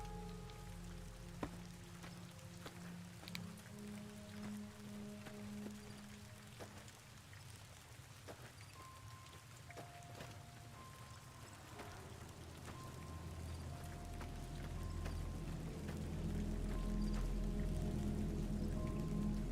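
Rain falling in Fallout: New Vegas, Honest Hearts, a soft, steady patter and hiss of drops that thickens toward the end, heard under low background music.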